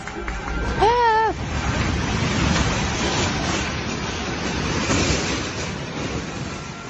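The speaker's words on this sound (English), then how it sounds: "High wind." Strong windstorm roaring as a broad, steady wash of noise that stays loud throughout, with a brief vocal shout near the start riding over the gusts.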